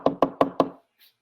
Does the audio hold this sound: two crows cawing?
no